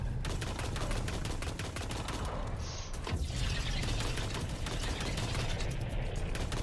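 Rapid automatic gunfire rattles continuously in Destiny 2 Lightfall, a dense, loud stream of shots with a brief mechanical pause partway through before the firing resumes.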